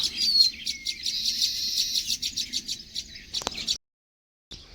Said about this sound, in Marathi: इथे बसला आहे सुगरण येऊन